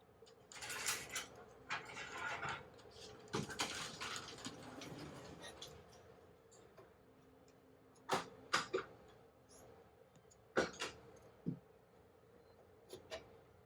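Screws being driven into a motor mounting block while installing a Compress1200 bed, heard as scattered close mechanical rattles and clicks with brief sharp peaks between quieter pauses.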